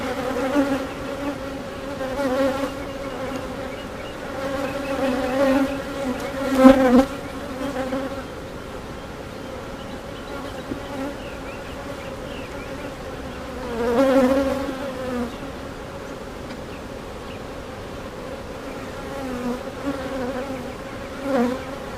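Honey bees humming and buzzing close around an open, once-queenless hive during an inspection, a steady drone with louder swells as bees pass near.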